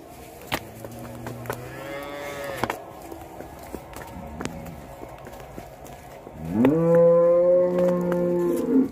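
A Jersey cross cow on a farm gives two long, loud moos, one early and one near the end, with faint hoof shuffles and background noise between them.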